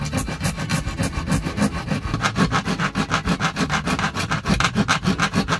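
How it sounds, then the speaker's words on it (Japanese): A store-bought wooden stand for a kamameshi rice pot is scraped and carved by hand to fit a small appliance, giving a steady, fast rhythmic rasping that repeats throughout, close and fairly loud. "頑張ってゴリゴリ削ってみたいと思います"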